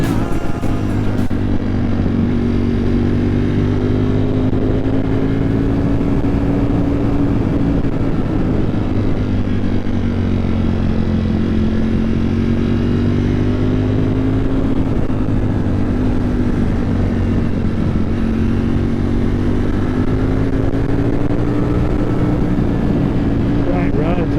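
A Ducati V4 Streetfighter motorcycle out on a ride, its engine holding a steady, loud drone with slowly rising and falling pitch throughout, while a rider talks over it now and then.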